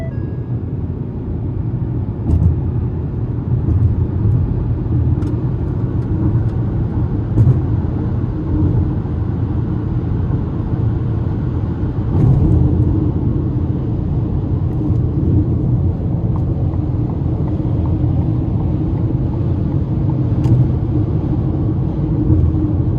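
A 2026 Ford Maverick Hybrid XL AWD pulls hard from inside the cabin, with a steady low engine drone and road rumble holding at an even, loud level for over twenty seconds, with no talking.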